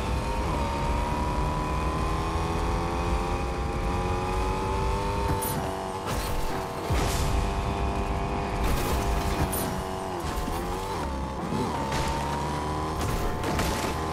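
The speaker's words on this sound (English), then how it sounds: "why is this car loud?" Loud car engine roars steadily in Fortnite, a constant droning hum with shifting pitch as the vehicle revs and accelerates, punctuated by sharp bangs and thuds near the end.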